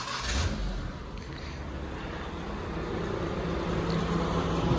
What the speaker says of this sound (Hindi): आशिफ भाई, ये हमारी प्यारी मेहरान को बाहर निकालें यार, ध्यान नाल मारना